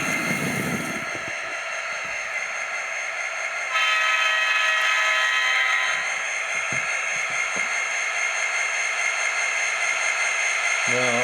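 An M.T.H. electric model train locomotive sounds a sustained, steady horn tone that shifts pitch partway through, with mechanical clicks and a faint rumble nearby.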